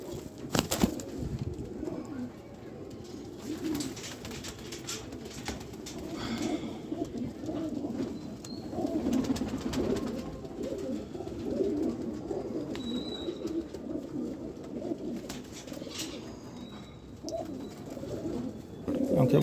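Rampuri pigeons coo softly and repeatedly in a pigeon-keeper's loft, with occasional wing flaps and light background noise throughout.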